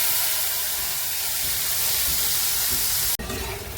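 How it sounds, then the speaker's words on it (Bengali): Ground poppy seed paste sizzles and hisses steadily in hot oil in a pan, close and continuous, with a sharp clatter near the end. "পোস্তটা এখন তেলের মধ্যে দিয়ে দেবো।"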